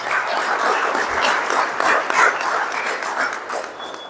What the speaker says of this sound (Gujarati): ત્યારે જોરદાર તાળીઓથી એમનું સ્વાગત કરવું જોઈએ